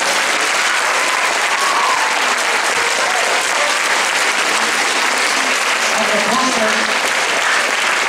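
Applause from a concert audience of prewar song fans rolls on continuously, a loud, even wash of many hands clapping, with a voice faintly talking beneath it.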